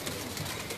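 Pigeons in a rooftop loft give a soft, brief coo close by, a low murmuring call against a steady background hush.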